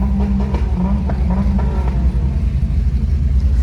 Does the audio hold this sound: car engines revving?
yes